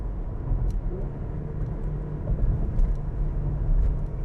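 A Porsche Macan Turbo engine rumbles low and steady from inside the cabin during downshifting, a deep continuous drone with mild surges and no talk.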